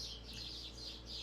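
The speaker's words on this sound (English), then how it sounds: "you hear the birds chirping" Birds chirp outdoors in quick, repeated high calls over a steady low background hum, with no one talking.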